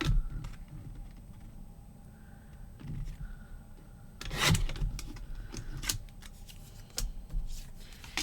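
Paper pocket cards are being trimmed, with their rounded edges cut off. Close, intermittent snipping and rustling paper sounds come in short bursts, with one louder cut near the middle, and no voices.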